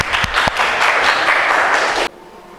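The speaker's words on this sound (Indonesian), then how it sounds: "Tepuk tangan." Classroom group applause in a school session, a short burst of many hands clapping loudly and densely before cutting off abruptly into quiet.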